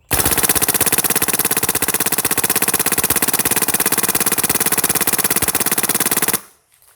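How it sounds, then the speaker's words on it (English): A MacDev Drone DX paintball marker fires on full auto as the trigger is walked, a dense rapid stream of sharp pops lasting about six seconds at a steady loud level, then stopping abruptly. "it's because I have it on full auto and I'm walking the trigger"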